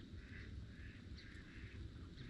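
Mallard ducks calling faintly in the distance on public hunting land, with soft repeated quacks rising over a low background rumble, no people talking.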